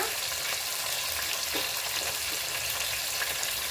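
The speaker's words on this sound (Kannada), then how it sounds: "ಈರುಳ್ಳಿ ಹಾಕ್ತಾ ಇದ್ದೀನಿ ಫ್ರೈ ಆಗಿದೆ ಈಗ" Onions fry in a pan with a dense, steady, loud sizzle that holds evenly throughout, with faint stirring scrapes.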